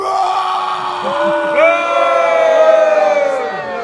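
A renaissance festival audience roars and yells together in a loud, sustained bellow that swells and holds for several seconds, mimicking a dragon's roar.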